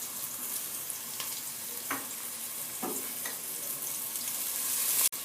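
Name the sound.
onions frying in cooking oil in a pan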